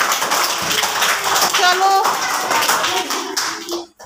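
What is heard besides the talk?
children clapping loudly in a classroom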